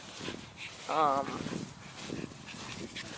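A dog on a leash in a park lets out one short, wavering high whimper, close by, while a person keeps talking over the outdoor background.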